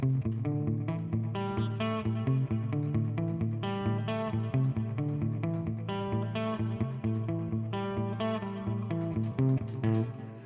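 A distorted electric guitar plays a repeating pattern of sustained A octave two-note chords, steady and rhythmic, with no voices.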